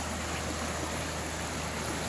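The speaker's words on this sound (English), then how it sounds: "hear the sound of the waters" Clean river water in a Kenyan village flows in a steady, broad rush with no clear separate splashes, continuous and fairly near throughout.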